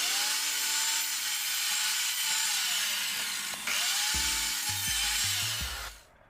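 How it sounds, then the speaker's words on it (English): A miter saw cuts timber to length at an angle for a beehive-style compost bin, giving a loud, steady whine for about four seconds. A few low knocks follow and the motor runs down near the end. "I could now set my stop on my miter saw and cut the whole thing to length with the correct angle"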